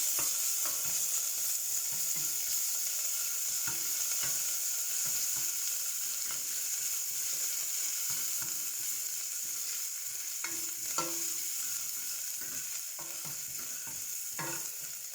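Chili, ginger and garlic paste fries for a cluster beans curry under a faint, continuous sizzle, broken by occasional soft scrapes and taps of a spoon as it is mixed. No one speaks.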